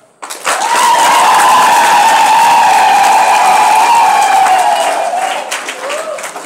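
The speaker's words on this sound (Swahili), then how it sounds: "Makofi kwake." A church congregation breaks into a strong, sustained burst of clapping and cheering that swells quickly, holds steady, then fades, with a voice heard faintly near the end.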